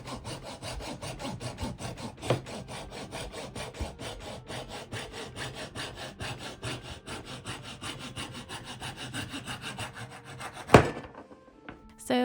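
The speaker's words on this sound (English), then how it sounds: "I've just tidied up that bottom edge after sawing it off the other piece of wood." A hand saw cuts the end off a wood block in a close, steady run of rhythmic rasping strokes, ending with the piece dropping away.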